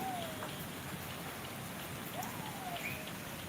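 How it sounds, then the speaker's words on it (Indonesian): Rain falls as a steady, soft hiss of drops on surfaces, continuous and even throughout, with a faint bird chirp somewhere in the background. "Hujan ini teh guys tuh."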